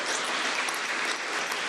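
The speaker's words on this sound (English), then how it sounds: "Please give them a big round of applause for their leadership" An audience gives a big round of applause at a voting rights event in New Orleans, a steady, fairly faint patter of clapping hands that continues without a break.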